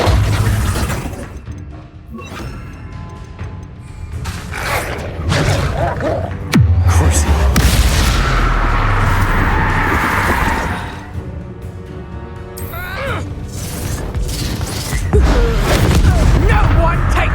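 Bombarda spell blasts in the video game Hogwarts Legacy burst out as loud booms and shattering crashes amid combat effects, with several impacts across the fight and game voices talking between them.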